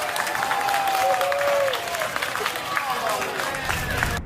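Passengers aboard an airplane clap and cheer after a disruptive woman is removed from the flight, a steady burst of cabin applause mixed with crowd noise and babble.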